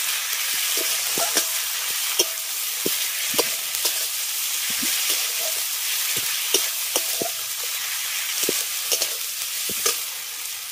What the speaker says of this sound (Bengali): অল্প করেই পেঁয়াজটাকে ভেজে নিলাম